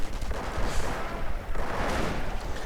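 Dense gunfire and sniper shots crackle through a WWII strategy video game battle, a continuous barrage of overlapping rifle and artillery bursts at loud volume.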